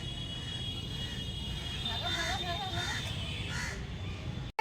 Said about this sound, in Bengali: এই যে কাক কেমন করে ডাকছে কেমন করে ডাকছে